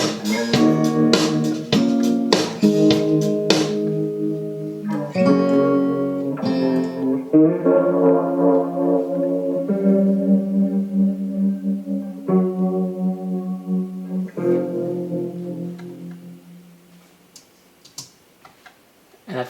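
Electric guitar played to mimic a B3 organ, run through spring reverb with Cooper Time Cube delay, giving sustained chordal swells after a run of quick plucked attacks, loud and close, fading near the end.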